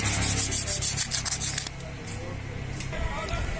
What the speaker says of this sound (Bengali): তো আমরা এইভাবে ঘষে নেব যাতে রংটা উঠে যায় আর মেটাল বের হয়